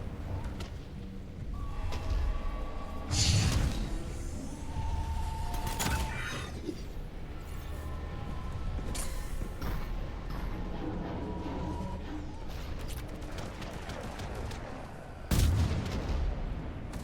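Weapon fire in Mass Effect 3, including a charged shot, comes as several heavy booming blasts and sharp cracks spread across a noisy battle scene with mechanical whirs and clatter.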